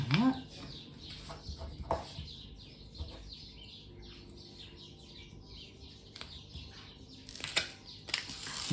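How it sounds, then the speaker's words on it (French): Small birds sing outdoors, heard faintly through an open window as a string of soft chirps and tweets under quiet indoor room noise, with a few louder nearby bumps and rustles. "On entend les petits oiseaux dehors, ils chantent."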